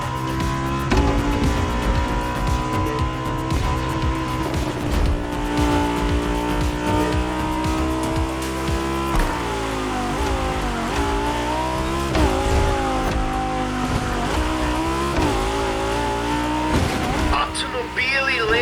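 Lamborghini and Ferrari race in The Crew Motorfest, with loud, continuous engine roar that rises and falls through gear changes, along with tire squeal and other cars passing.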